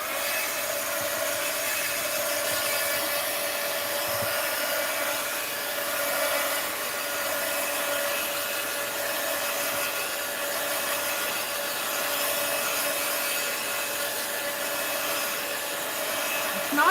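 A hair dryer blows steadily over a painted art journal page, a continuous close whirring hiss with a faint high whine that holds level throughout without a break.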